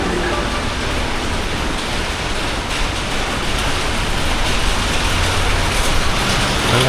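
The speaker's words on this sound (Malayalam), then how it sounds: "നല്ല സൂപ്പർ മഴ." Heavy rain keeps up a dense, even roar throughout an early-morning MEMU train ride from Shoranur to Ernakulam Junction, a loud broadband hiss mixed with the low rumble of the moving coach and no one talking.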